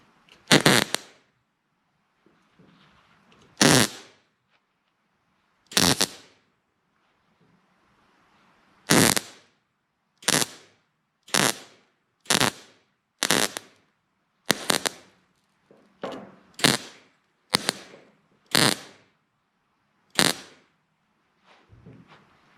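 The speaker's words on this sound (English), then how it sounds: "And there we have the welding done." Tack welds fusing a patch panel into the trunk gap of a 1972 Nova, heard as about fifteen short, loud crackling bursts spaced a second or two apart, with quiet pauses between them.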